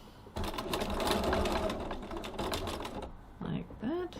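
A sewing machine runs in a steady continuous burst while stitching along a tote bag's adjustable strap, then stops for a moment before a couple of short, quick stitch bursts near the end.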